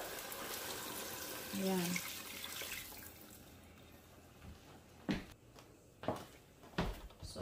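Water splashes and trickles into a cooking pot for a Bisaya-style ginagmay soup, with a hiss of pouring early on and then a few sharp drips or clinks further apart, all quiet and close, with a brief spoken word.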